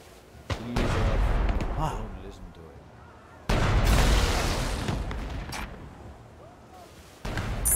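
Heavy cannon blasts from Shadow Tactics, a feudal Japanese stealth game, come as three loud booms a few seconds apart, each rolling out into a long rumbling decay, with voices faintly in the background.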